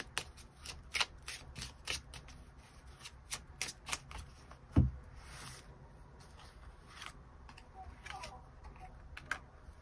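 Tarot cards are shuffled close up during a December fortune reading, giving a quiet run of crisp papery riffles and flicks in irregular bursts, with one sharper slap near the middle and no talking.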